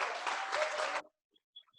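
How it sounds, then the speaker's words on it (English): Audience applause at a leadership gathering, a dense burst of clapping for about a second that cuts off abruptly into near silence with a few faint clicks. "So I would like to give him a round of applause,"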